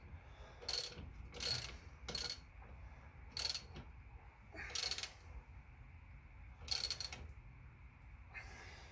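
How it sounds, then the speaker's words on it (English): A ratchet wrench tightens a bolt to compress Jeep leaf springs, with intermittent bursts of quiet clicking, each a second or so long, separated by pauses over a faint background. "You want to tighten this really tight, compress those springs."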